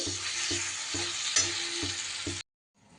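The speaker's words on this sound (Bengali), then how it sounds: "ততক্ষণ টমেটোটা আমার কষা হবে।" Tomatoes sautéing in a pan for a vegetarian Bengali dish, a steady loud sizzle broken by regular stirring scrapes about every half second, then the cooking cuts off abruptly near the end.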